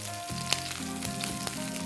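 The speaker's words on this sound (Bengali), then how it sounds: "আমাদের ফুলকপিটা ভাজা হয়ে গিয়েছে" Cauliflower pieces fry lightly in a pan, giving a steady, close sizzle with faint crackles for a couple of seconds and no talking.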